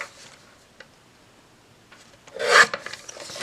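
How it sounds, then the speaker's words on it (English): The edge of a mini paperbag junk journal folio is trimmed. Faint scraping and light ticks are followed by a louder, brief rasping cut near the end. "So I think I'm going to trim a little bit more off the edge."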